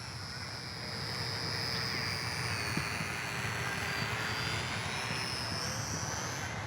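Eachine Mini Cessna micro RC plane in flight, its small electric motor and propeller giving a steady high-pitched whine that holds level throughout, fairly close and continuous.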